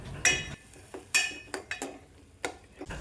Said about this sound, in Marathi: यामध्ये आपण घेतलेला सगळा कांदा आणि टोमॅटो वरूनच कच्चा टाकायचा आहे आणि थोडंसं परतून घ्यायचं आहे